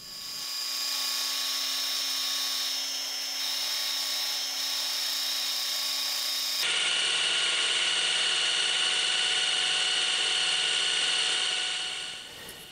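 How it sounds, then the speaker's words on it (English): A milling machine drives an end mill through a clamped workpiece, a loud sustained whine with steady tonal hum that shifts pitch partway through as the cut changes, then fades at the end; no talking. "and then we start milling it."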